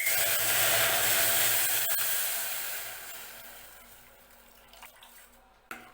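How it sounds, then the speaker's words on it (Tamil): Tamarind water poured into a kadai while making Mysore sambar, a steady liquid rush close by that slowly tapers off into faint trickles and a final small clink. "இதை வந்து நம்ம கடாயில் ஊற்றிடலாம்."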